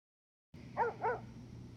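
Two quick, fairly faint barks from a dog next door in a Sopranos scene, close together and followed by a low steady background hum.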